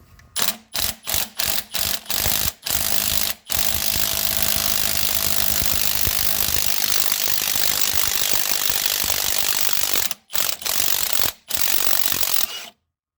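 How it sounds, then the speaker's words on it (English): Ratchet cranking the center bolt of a puller to remove the crank pulley on a 2002 Chevy Malibu, quick rhythmic clicking strokes, then a long steady grinding stretch, then a few more close, loud ratchet bursts. "all I have to do is start cranking down on this center bolt, and it's gonna pull off the crank pulley"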